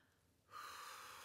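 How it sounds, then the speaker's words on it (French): A single deep, slow inhalation taken during a calm guided meditation, starting faint and swelling into a steady, breathy rush that holds to the end, close and alone with no talk. "Prenez une grande et profonde respiration."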